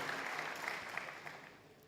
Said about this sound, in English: Please, another round of applause for the Consumer Protection Council.